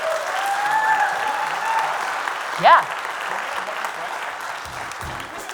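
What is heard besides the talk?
audience applause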